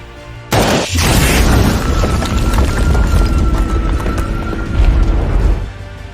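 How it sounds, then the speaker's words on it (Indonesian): Grenade explosion in a film battle scene: a sudden heavy boom lands about half a second in, followed by a loud, sustained rumbling roar of debris and battle noise that slowly eases off. "mereka juga mendapat sebuah serangan granat dari atas"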